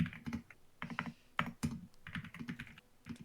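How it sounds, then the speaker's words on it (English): Fast, forceful computer keyboard typing during a League of Legends tournament broadcast, with dense clusters of hard key strikes arriving in irregular bursts, close up and alone. "Aggressive typing incoming."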